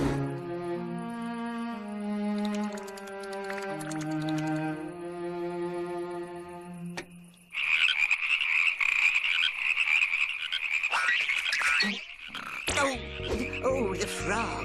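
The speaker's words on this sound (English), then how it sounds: "Oh, the frogs! The frogs!" Cartoon frogs croaking in a ninja school animation, loud, busy and overlapping, bursting in suddenly after a melodic musical passage and carrying on to the end.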